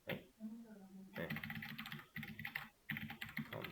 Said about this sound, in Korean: 그냥 타이핑을 하겠습니다.